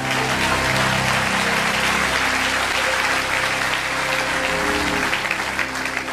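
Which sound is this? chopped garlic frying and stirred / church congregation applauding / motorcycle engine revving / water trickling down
church congregation applauding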